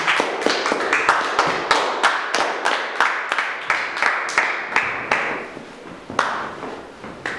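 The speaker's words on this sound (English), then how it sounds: "Let us give a clap to the Lord for this word this morning." A church congregation clapping together in praise after a sermon, a steady rhythmic series of sharp, close hand claps that gradually slow and thin out toward the end, with no talking.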